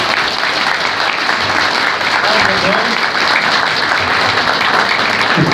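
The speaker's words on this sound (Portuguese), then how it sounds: "eu chamo aqui e peço uma salva de palmas" Audience applause for Carlos Odone Nunes at a ufology conference, a dense, loud and continuous clapping wash that holds steady for several seconds, with faint voices mixed in.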